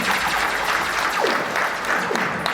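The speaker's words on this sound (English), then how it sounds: "Please a round of applause for Boni Kamau" A crowd applauds jackpot winner Boni Kamau at a SportPesa winner's welcome event, a continuous loud wash of clapping with crowd noise throughout.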